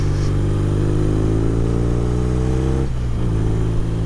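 A 260 kg police motorcycle accelerates, its engine note rising steadily in a loud, close drone before easing briefly and picking up again, with no talking over it.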